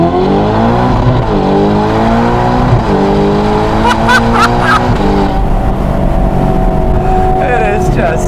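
A Novitec-tuned Ferrari Portofino M with 688 hp blares its exhaust up close, the revs climbing and falling in loud sustained pulls, with sharp crackles near the end and talk faintly underneath.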